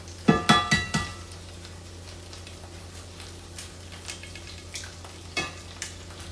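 An egg cooks in a hot pan with browned butter and garlic, the heat already off, as a soft sizzle runs beneath a few sharp clacks of a utensil against the pan at the start and some scattered taps later.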